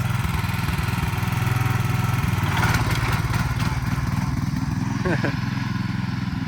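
A 1967 Sears Super 12 small engine running hard in third gear, a loud, steady buzzing drone with rapid pulsing and slight rises in pitch, people talking over it now and then.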